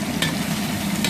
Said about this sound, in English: I see things frying.